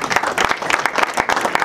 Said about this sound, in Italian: Luigi Di Matteo Fireworks Event, a cui voglio fare un applauso.